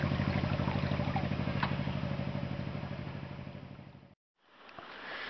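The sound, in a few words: boat engines in the distance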